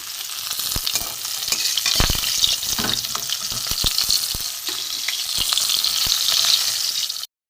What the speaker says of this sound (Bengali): 4টে হালুয়া মাছ একসাথে ভেজে নেব